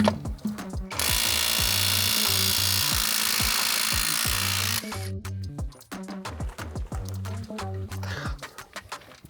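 A Dnipro-M cordless impact wrench (DTW-201BC Compact or DTW-202BC Ultra) hammers at a nut, with loud rapid impact bursts and a long continuous rattling run in the middle, then shorter bursts, all close by.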